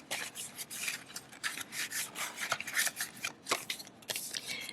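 Paper cash bills are rubbed and stuffed into a budget envelope, giving close, papery rustling and shuffling that comes in quick bursts with no talk.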